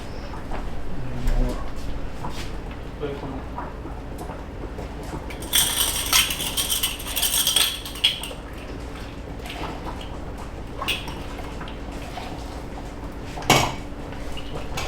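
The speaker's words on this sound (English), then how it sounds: "Gonna get the lids and put on there for me." Glass pickle jars being capped with their lids in a home kitchen, with several clinking, clattering handling bursts around the middle and a sharp knock near the end, over steady background noise.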